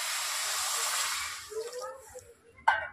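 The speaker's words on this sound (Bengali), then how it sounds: "আমি আন্দাজ করে 3 ভাগ জল দিয়ে দিচ্ছি" Water poured from a bowl into sugar in a wok to start a syrup for gulab jamun, a steady close hissing splash that tapers off midway, followed by a few faint gurgles and a sharp clink.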